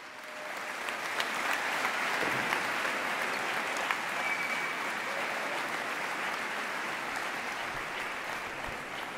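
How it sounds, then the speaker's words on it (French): A concert audience gives a singer a warm welcome with sustained applause. Dense clapping fills the whole stretch at a steady level, heard from within the hall with no speech over it. "Je vous demande d'applaudir vivement"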